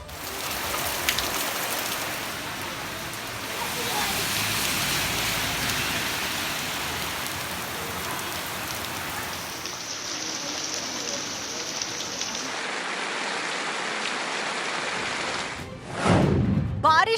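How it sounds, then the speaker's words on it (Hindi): Heavy monsoon rain pours down in a dense, steady hiss of drops striking surfaces, loud and continuous, with a brief shift in texture near the end. "देश भर में बारिश का सितम ऐसा कि कम होने का नाम नहीं ले रहा।"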